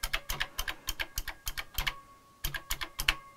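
Keys clack in quick, irregular bursts on a repaired Tandy CoCo 2 computer keyboard, close and crisp with a short pause partway through, and no voices.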